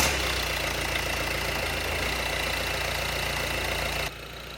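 A car engine with a recently replaced timing belt runs at a steady, loud, close idle with a low rumbling drone, dropping noticeably quieter in the final half second.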